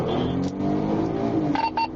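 Fleeing car in a police chase pulling away and accelerating, engine note rising in a steady harmonic whine, loud and close, with faint radio-like chirps at the end and no talk.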